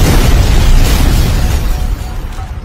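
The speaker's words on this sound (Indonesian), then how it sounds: "Terlihat Pak Dikopet akan meledak dan akhirnya si Kopet meninggoy dan terbakar bersama rumahnya." A house blowing up and burning in a 2021 slasher film, a deep continuous roaring boom that stays loud and dense throughout, slowly easing toward the end with no voices over it.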